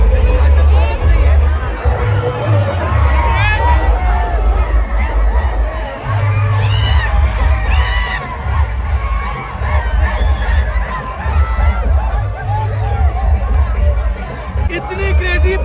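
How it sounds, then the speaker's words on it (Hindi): A huge crowd at a Shiv Jayanti celebration in Aurangabad, with loud, dense babble, shouts and whoops rising over low rumbling, continuous and close throughout. "भीड़ कम होने की जगह बढ़ते ही चले जा रही है"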